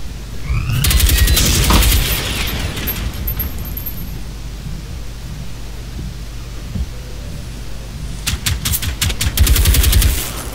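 Gunfire in the video game Generation Zero, rapid bursts of automatic shots at the start and again near the end, loud and close, with a sustained noisy wash in between and no voices.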